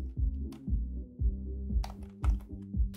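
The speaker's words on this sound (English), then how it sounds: "I need to add a sound effect, which is typewriter effect, right?" Typewriter keys clack in a steady run of sharp, close strikes, about a dozen in three seconds, with a few brighter metallic snaps mixed in and no voices.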